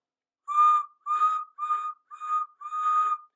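Henry the steam engine gives five short whistle blasts in a row, each a clear tonal toot with steady pitch, evenly spaced and alone against silence.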